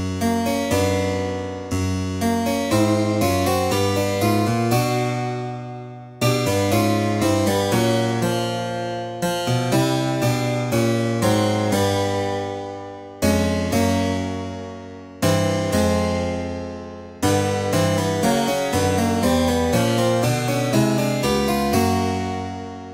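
Music in 22-tone equal temperament using Pajara tuning: a series of struck or plucked chords and melodic notes with fast attacks and decaying tails, in phrases separated by brief gaps, loud and steady with no talking.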